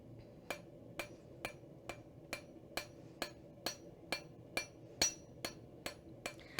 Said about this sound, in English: I'm flipping over to the peen to just get this a little bit wider.